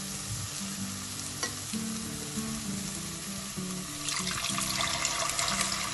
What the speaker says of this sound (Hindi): अब हम इसके अंदर बॉईल की हुई दाल डाल देते हैं